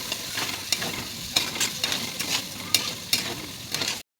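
Green chili and poppy seed paste goes into potatoes frying in a pan: a steady sizzle with repeated sharp scrapes and taps of a spoon stirring, close up, with no voices.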